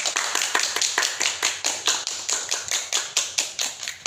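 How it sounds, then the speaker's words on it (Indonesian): An audience at a school event claps for two students honored for winning a national science olympiad, a steady, rhythmic unison clapping with about three claps per second, close and fairly loud, no speech. "Monggo kita tepuk tangan kagem Rafa lan Atta."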